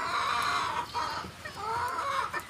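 Serama bantam chickens cluck close by in short, repeated bursts, with a few sharper calls mixed in over quiet farmyard background.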